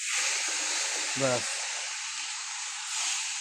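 Marinated chicken hisses and sizzles steadily in a hot pan with bay leaf. The even frying noise stays close and constant, and a single short spoken word cuts in partway through.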